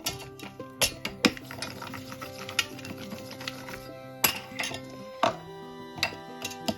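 A small bowl presses and mixes hot peanut chikki mixture on a plate, producing close, irregular clinks and knocks of metal against the plate over a faint background, with no talk.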